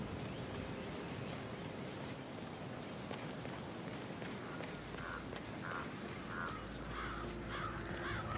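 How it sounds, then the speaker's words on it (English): Crows cawing in an English countryside setting at Dartmoor in the video game Hitman, a flock giving repeated harsh caws over steady ambient noise, growing more prominent in the second half. "It's the birds. They're making a racket, droppings everywhere."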